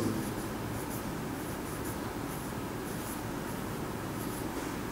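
A pen or marker writes out a sentence, giving a steady, continuous scratching that runs the whole time with no talking.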